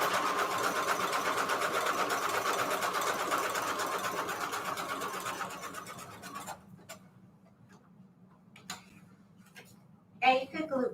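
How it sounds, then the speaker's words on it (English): Stitching zigzag on vellum pockets, a sewing machine whirs steadily for about six seconds, then stops, leaving faint handling clicks and a brief rustle near the end. "Then setting my stitch on zigzag at 2 length and 5 width."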